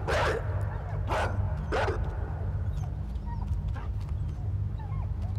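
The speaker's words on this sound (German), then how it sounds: "jetzt kläfft er uns die ganze Zeit voll" A dog in the video game Inside lets out three sharp, close barks in quick succession, followed by softer whimpers and yips over a low rumbling game backdrop.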